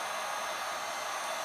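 A Hyundai H 2200 Expert heat gun roars with a steady, even hiss of rushing hot air, close and constant, without any voices.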